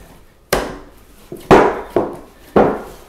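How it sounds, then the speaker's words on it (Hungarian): Sausage and cheese scone dough is kneaded by hand on a work surface, giving five loud, close slaps and thumps at an uneven pace with quiet pauses between them. "ezt még azért dagasztanom kell."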